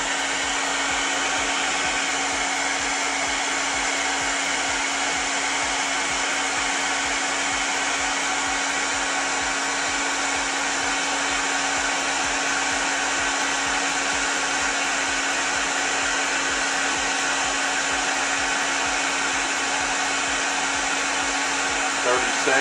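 A hair dryer blows steadily at close range on a piece of flange, a constant whooshing motor hum with a high whine, unbroken for the whole stretch.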